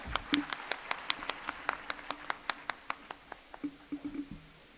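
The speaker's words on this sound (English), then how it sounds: "Loud claps please." The audience at the Esdee International School annual function in Dungarpur claps in a quick, even rhythm of crisp, moderately quiet hand claps. Voices murmur near the end.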